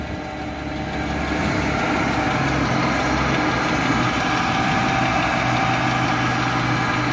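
A petrol engine on a 1.5-tonne forklift idles in a steady, even rumble, quiet at first and then holding a constant level, with no talk.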